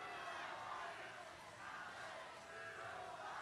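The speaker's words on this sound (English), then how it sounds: "The Red Alliance is energized, and you can hear it in the crowd." A crowd cheering and roaring in an arena at a FIRST robotics district competition in Friendswood, Texas, a dense, steady wash of many voices at moderate level throughout.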